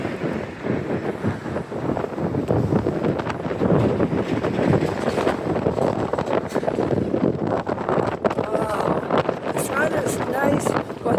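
Wind gusts outdoors in downtown Halifax on a fall day, a loud buffeting rumble against the microphone that continues throughout, with people talking over it.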